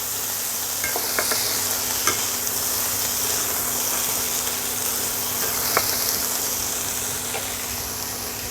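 Chopped capsicum and other ingredients fry in a pan for a sandwich filling, giving a steady broadband sizzle with a few faint clinks and stirring scrapes, fairly close and even throughout, with no talking.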